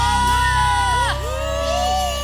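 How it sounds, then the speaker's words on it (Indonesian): A congregation at a Sunday onsite worship service cheers and shouts in a loud, continuous crowd roar, with voices whooping and sustained tones running through it. "Kita kasih tepuk tangan sorak-sorai"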